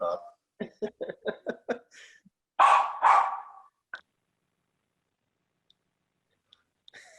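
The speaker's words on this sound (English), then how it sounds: "my dog is barking" A pet dog barking indoors, a quick series of short yips followed by two louder barks, then near silence with a few faint clicks.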